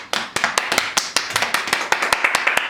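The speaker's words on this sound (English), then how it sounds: "Come on, Aaron, fucking clap." Small group clapping for podcast guests: a quick, steady run of about twenty sharp, dry claps from one or two people, close and fairly loud, no voices over it.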